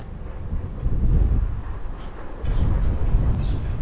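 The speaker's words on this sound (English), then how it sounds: "Windy, windy day though." Strong wind buffets the microphone outdoors on Manoel Island in Malta, low rumbling gusts swelling and easing in two waves, with no voices.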